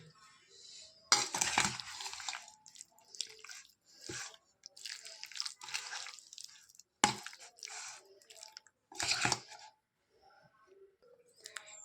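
Chicken for a Hyderabadi-style biryani being mixed with half a lemon, giving intermittent wet squishing and clinking bursts with short quiet gaps, close and fairly faint.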